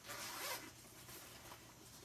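A zipper on a bag's built-in wallet pocket drawn open in one steady rasping pull, close and fairly quiet, then fading.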